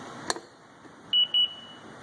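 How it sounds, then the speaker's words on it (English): Two short, high electronic beeps in quick succession ring out clearly after a faint click, over a quiet background, as a Kawasaki Ultra LX jet ski powers up. "the ski will beep to acknowledge that it's powered up."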